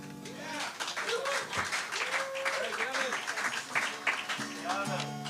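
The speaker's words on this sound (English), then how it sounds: "Let's give another round of applause" Audience applause at a Wednesday night live music show, a steady wash of clapping under someone talking, with some sustained tonal sounds running through.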